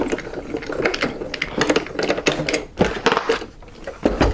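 A manual die cut machine cranking paper and a metal die through its rollers, producing a dense, rhythmic clicking and ratcheting of gears at close range, steady throughout.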